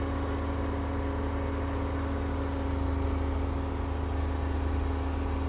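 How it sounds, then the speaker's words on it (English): ROGO soil sampling robot vehicle driving itself in auto mode, a steady mid-pitched engine drone with a constant hum that holds evenly throughout. "put the machine in auto, and it's going to drive to our first sample location"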